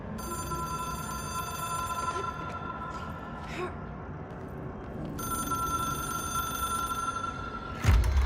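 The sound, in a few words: telephone ringing in Control video game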